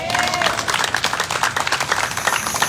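A church congregation claps together in a dense, steady burst of applause, loud and continuous throughout, with a faint voice briefly audible at the start.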